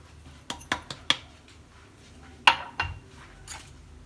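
A utensil clinks and scrapes against a bowl while eggs and sugar are mixed for a chocolate cake batter, giving a few sharp taps in a quick cluster and then scattered softer knocks, close by and moderately quiet.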